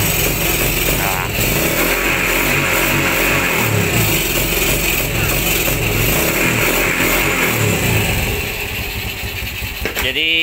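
A Yamaha Vega motorcycle engine with weak ignition runs at idle close by, a rough, buzzy drone that stays steady and then drops and falters near the end, ending with a brief clatter.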